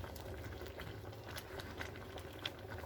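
A pot of bamboo shoot curry boils softly, giving a faint, steady bubbling and light popping patter with no talking over it.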